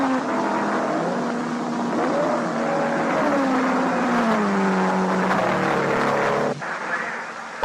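Race cars roar past during night racing in a vintage period setting, engines loud and sustained with rising and falling pitch as they pass, ending in an abrupt change of tone.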